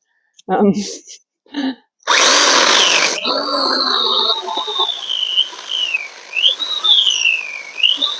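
A power drill bores into a privet stem in one loud burst of about a second, surrounded by a few short handling knocks and followed by a sustained, wavering whistle-like tone.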